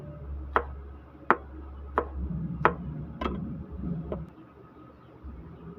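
Long green chili peppers are sliced with a knife on a cutting board, giving six sharp, evenly spaced chopping taps at close range, with low background hum between the cuts.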